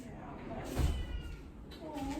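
A cat meows briefly in a hotel room during a summer trip in Antalya, Turkey, with people talking nearby and faint room noise underneath.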